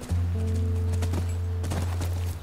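Hooves of a horse in the video game The Last of Us Remastered clip-clop in a loose rhythm over a loud, steady low hum that runs throughout.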